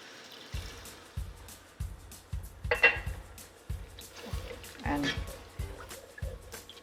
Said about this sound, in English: To this I'm going to add some water.